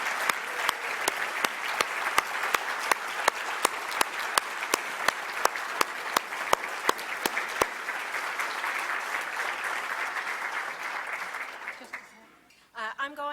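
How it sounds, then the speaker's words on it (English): Audience applause fills a dinner hall at an annual legal awards dinner, steady dense clapping with a few sharp, regular claps standing out, fading away near the end. "Rebecca and Evan, please stand, accept our applause"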